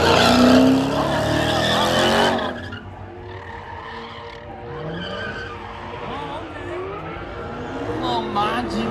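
Loud tire squeal and engine roar from a drift car's burnout at a drift event, fierce for the first two seconds, then dropping to a lower sustained screech and rumble under crowd noise and talk.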